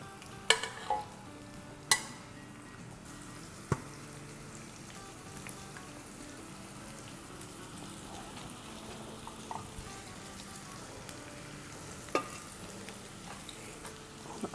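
Onions fry and brown in a pan for haleem, a soft continuous sizzle with a few sharp clinks and stirring knocks scattered through, no one talking.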